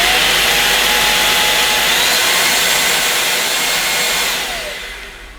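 A Moosoo K17 cordless vacuum cleaner whirs loudly and steadily at close range, with a shift in motor pitch between its reduced and maximum suction settings before it winds down near the end.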